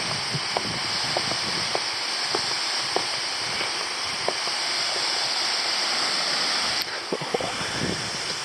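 Apsley Falls pouring into a gorge in New South Wales, a steady broad roar of falling water heard from a lookout, continuous and loud with faint wind and a few brief knocks.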